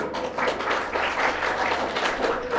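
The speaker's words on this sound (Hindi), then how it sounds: "तो इन गौरव की बात के लिए भी जोरदार तालियां।" A crowd at a college cultural and sports valedictory function claps loudly, a continuous rolling patter of many hands close by, steady in strength throughout.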